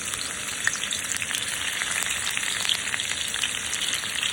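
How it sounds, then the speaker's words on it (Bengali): Chopped garlic fries in white oil in a wok, giving a steady, close crackling sizzle with occasional sharp pops and no talk over it. "কড়াইয়ে দিয়ে দিয়েছি সাদা তেল এবার দিয়ে দেবো কুচানো রসুন"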